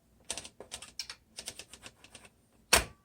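Paper being loaded into a 1960s Smith Corona Classic 12 manual typewriter, a run of light clicks and ratcheting taps close up, ending in one louder sharp clack, with no talking.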